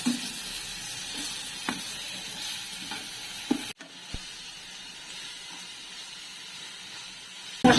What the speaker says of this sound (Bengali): আমি এবার মশলাটাকে ভালো করে কষিয়ে নেব